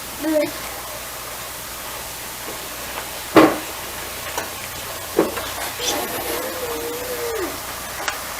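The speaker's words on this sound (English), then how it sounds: "stir in half cup cheese" Cheese stirred into a sizzling chicken and spinach enchilada filling makes soft scraping stirs and scattered clicks over a low frying hiss, with a few louder knocks from the utensil.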